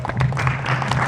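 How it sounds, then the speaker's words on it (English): A conference audience at a Bitcoin 2013 event gives a brief burst of applause for Lindsay, a short patter of clapping over a low steady hum. "I want to give her a round of applause."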